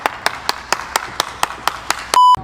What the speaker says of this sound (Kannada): ಕ್ಲಾಪ್ಸ್ ಬರ್ಲಿ, ಕ್ಲಾಪ್ಸ್ ಬರ್ಲಿ